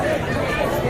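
Fair crowd at the Khandoba temple in Jejuri, a dense murmur of many voices packed close together, continuous and fairly loud.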